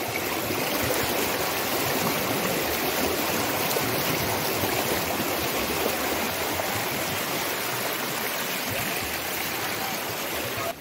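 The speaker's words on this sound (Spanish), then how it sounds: "Y el río sigue para allá." A wide river flows over rocks at Río Dos Caños in Hueyapan de Ocampo, Mexico, giving a loud, constant rushing and babbling wash of water, with no voices.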